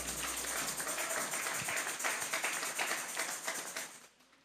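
A church congregation applauds together, a dense, steady wash of clapping that fills the space for about four seconds before trailing off.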